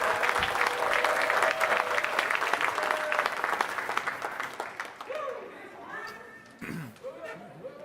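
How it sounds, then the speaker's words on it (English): Audience applause at a Flatoberfest 2022 presentation, a dense wash of clapping and crowd chatter that fills the first five seconds, then thins into scattered claps and voices as the room settles. "Give him a round of applause."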